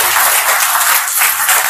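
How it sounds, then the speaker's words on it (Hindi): Audience applause at a Hindi motivational talk, dense loud clapping from a crowd, continuous and close with no talk over it. "ताली बजाइए बढ़िए"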